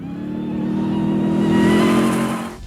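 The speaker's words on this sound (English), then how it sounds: "This is the new TRX, the fastest, quickest, and most powerful truck on sale in America today in its class." A Ram TRX pickup truck's engine revs hard, a single loud rising-and-falling roar of strong harmonic tone lasting a couple of seconds before cutting off abruptly.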